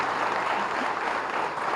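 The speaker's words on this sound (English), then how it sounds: "Can we have a big round of applause once again?" Conference audience clapping at a valedictory address, a dense, steady wash of applause filling the whole stretch at even loudness with no voices over it.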